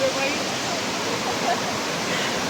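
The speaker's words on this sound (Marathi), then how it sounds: "गाईज हाच आपला धबधबा फर्स्ट जिथे मागच्या वर्षी आलो होतो" Darekar waterfall roars as a steady, dense rush of falling water heard close up, loud and unbroken for the whole stretch.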